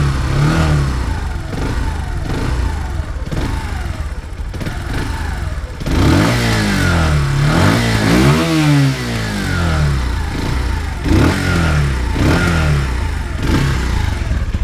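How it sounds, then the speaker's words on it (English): A Lexmoto Venom 125 motorcycle engine idles with a steady putter, then is revved in several rising and falling bursts, some exhaust popping, loud and close with wind noise in the background. "I'll start the bike up now so you guys can hear what it sounds like"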